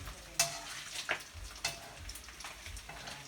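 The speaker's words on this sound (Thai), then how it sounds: "โอ้โห มีน้ำมันกระเด็นด้วย" Pork frying in hot oil in a wok: a quiet bed of sizzling broken by several sharp spitting pops and crackles of splattering oil, with no talk.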